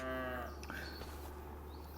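Cows mooing in the farming game Farm Sim 25, a single drawn-out bovine moo at the start that fades into a quieter second low call over a steady low hum.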